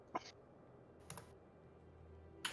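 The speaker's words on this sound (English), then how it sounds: "But I do have a loud keyboard." A loud mechanical computer keyboard gives a few sharp, isolated key clicks, roughly three spaced strikes, against a quiet background.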